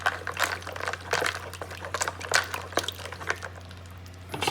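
Hot syrup stirred into homemade fresh cloudy lemonade, with sloshing liquid and repeated clinks and swishes of a spoon at close range, steady and rhythmic.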